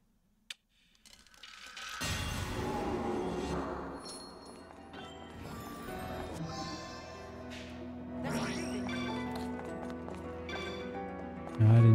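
Horse hooves clip-clopping in the video game Bayonetta 2, a steady rhythmic clatter of moderate loudness amid game music and effects, with someone talking over part of it.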